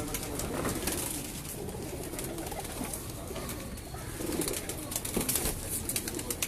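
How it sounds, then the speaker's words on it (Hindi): Pigeons kept by a rooftop pigeon fancier coo and call softly, with occasional wing flutters against steady outdoor background noise; the calls are faint and blend into the ambient hum. "ये इनके कुछ कबूतर।"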